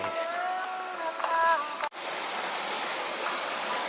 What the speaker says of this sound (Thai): พบกับน้ำตกชั้นเล็กๆนะครับ